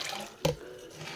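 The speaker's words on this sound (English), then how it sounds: "add water" Water poured into a pressure pot holding breadfruit (ukwa), a single short splash rising briefly above a quiet kitchen background.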